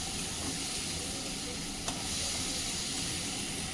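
Soft, steady sizzle of onion, tomato and capsicum frying in a pan, faint and continuous, with one brief clink of a utensil midway.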